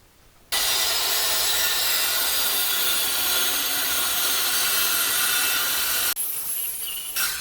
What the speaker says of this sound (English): I can go ahead and start to rip my 2x4.